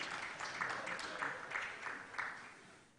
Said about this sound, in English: Shall we clap for her for transformative mind?